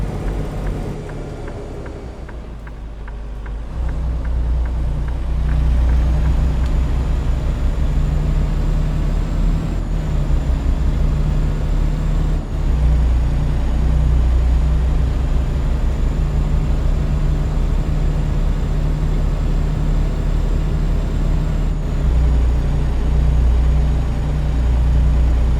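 A heavy truck in American Truck Simulator pulling onto a highway, its engine droning steadily and loudly at a constant low pitch for the whole stretch, with a brief dip at the start before the rumble settles in.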